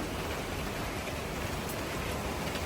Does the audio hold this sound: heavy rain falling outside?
yes